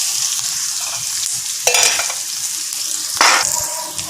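Onion, ginger and garlic frying in a pan, a continuous close sizzle with two sharper bursts of hissing as the mix is stirred.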